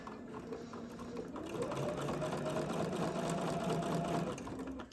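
A sewing machine fitted with a hemmer foot stitches a rolled hem, running in a steady close mechanical whir that speeds up and holds an even rapid rhythm for several seconds before easing off.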